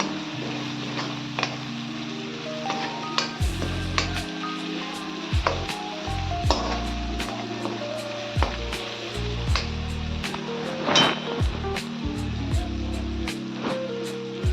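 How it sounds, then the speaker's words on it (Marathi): Dal khichdi ingredients sauté in oil in a pan over a low flame, giving a steady, soft sizzle close by, with repeated sharp clicks of stirring and a tonal background beneath. "कमी गॅसवर मंद आचेवर आपल्याला छान असं परतून घ्यायचं आहे"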